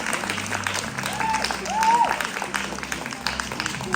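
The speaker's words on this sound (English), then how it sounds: "a big round of applause for all our lifters this afternoon" An audience at a powerlifting competition claps and cheers for the lifters in a steady burst of applause, and a few voices call out over the clapping.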